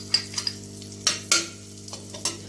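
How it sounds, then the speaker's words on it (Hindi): Ghee goes into a hot pan for sweet vermicelli, with several sharp clinks and scrapes of a utensil against the pan over a faint, quiet background hum. "तो अब मैं ये घी जो है वो इसमें डाल देती हूँ"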